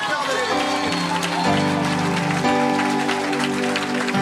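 Congregation at a church testimony service applauding and acclaiming God, a dense continuous wash of clapping and voices mixed with loud music, sustained and close throughout.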